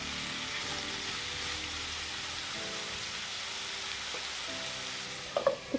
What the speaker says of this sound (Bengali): আলুগুলো তেলের মধ্যে দিয়ে দিলাম। আলুগুলো খুব ভালো করে একটু হালকা হালকা করে খুব ভালো করে একটু ভেজে নেব।